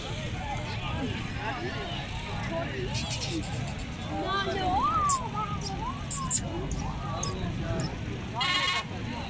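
Goats for sale bleat repeatedly amid a crowded, noisy outdoor scene, their wavering cries mixed with people talking and general bustle.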